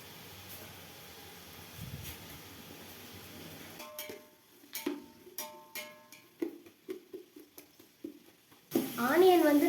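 Half a kilo of sliced large onions with green chillies frying in a pan for chicken biryani: a soft sizzle, then a run of spoon-on-pan stirring clatters, ending in a louder burst of frying.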